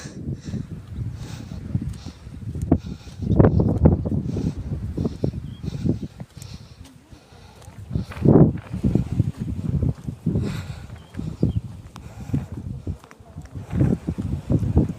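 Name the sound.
strong wind blowing against the microphone outdoors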